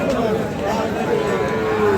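A bull lows at a busy cattle market, one drawn-out moo over the dense chatter of a surrounding crowd.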